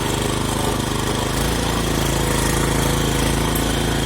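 A motor cultivator plowing a home garden plot runs loud and steady, its engine chugging with a dense, continuous rattle and no pauses.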